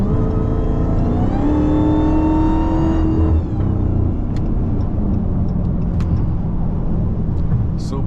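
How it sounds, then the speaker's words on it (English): A supercharged Dodge Hellcat Jailbreak accelerates hard in rush-hour traffic, its rising whine and engine roar climbing steadily for a few seconds before settling into a loud steady cruise drone with faint clicks. "Supercharger sound crazy."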